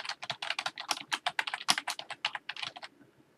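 Quick bursts of clicks on a computer keyboard as a customer phone number is entered, about thirty crisp keystrokes in a close, fast, uneven rhythm that trails off at the end.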